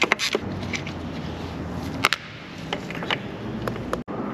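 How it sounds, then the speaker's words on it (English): A large ratchet being worked on a Mercedes M113 engine of a CLK 55 AMG during an oil leak repair, giving a few sharp clicks and mechanical rattles close up in a workshop, with no talking. "Big ratchet. It's 46 mil."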